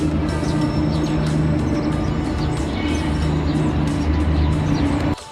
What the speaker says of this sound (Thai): ใกล้รางรถไฟนะมีรถไฟวิ่งผ่านได้ยินเสียงรถไฟไหมครับ